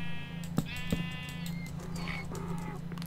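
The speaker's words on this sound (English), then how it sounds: "Get out of here, sheep. You're ruining my box." Sheep bleat in the video game Minecraft, a series of wavering, nasal calls up close, repeating over a steady low background hum with a few soft clicks.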